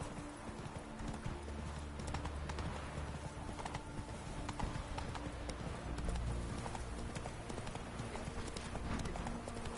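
Roach, the horse in The Witcher 3, gallops with a fast, continuous run of hoofbeats over a busy backdrop of game music and ambience.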